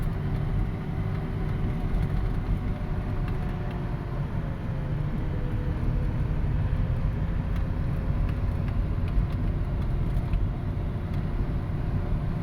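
A jeep drives uphill toward Mount Bromo before dawn, with its engine giving a steady low rumble from inside the cabin that continues evenly throughout without a break.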